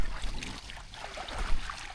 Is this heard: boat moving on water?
yes